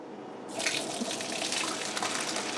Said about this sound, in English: let's go over to the sink